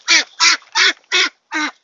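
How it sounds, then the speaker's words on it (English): A duck on a farm, kept alongside a chicken, gives five loud, evenly spaced quacks in quick succession, each short and nasal, with brief silent gaps between them and no talking. "that is a chicken and a duck"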